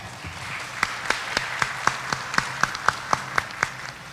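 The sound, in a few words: conference audience applauding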